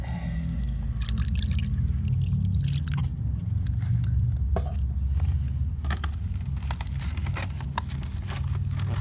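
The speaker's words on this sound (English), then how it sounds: "I'm gonna water a little bit." Water poured onto soil around a freshly planted sugar cane cutting gives steady, close wet dripping and squishing against a constant low rumble, with no talk.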